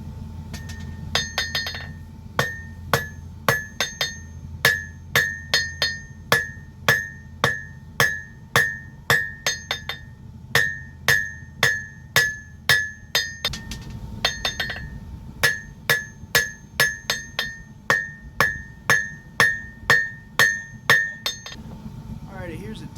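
A hammer rings on a steel katana blade being forged in a long, steady series of bright, clinking blows, close and loud, pausing briefly midway before continuing at the same rhythm.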